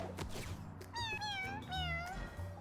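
Cartoon cat meows ring out several times in the game Mewgenics, rising and falling tonal cries over a low game soundtrack and effects, close and fairly loud.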